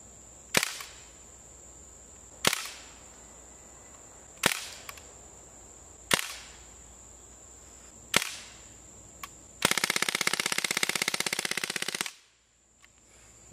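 An Umarex Legends MP-40 BB submachine gun fires five sharp single cracks at even spacing, then a rapid full-auto burst of about two seconds, loud and close, with no talking.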